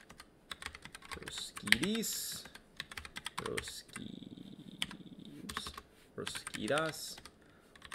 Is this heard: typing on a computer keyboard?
yes